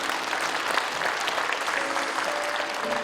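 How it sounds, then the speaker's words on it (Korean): A church congregation claps together in a dense, steady round of applause that fills the room and holds at an even level throughout. "박수 한번 쳐드리겠습니다."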